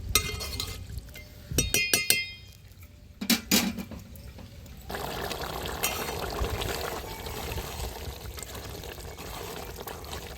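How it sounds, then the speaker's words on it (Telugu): Water is poured into a pot of curry with onion and salt after a run of ringing clinks and knocks from metal and glass utensils, then a steady, close rush of pouring liquid fills the rest. "నీళ్ళు పోతున్నానండి"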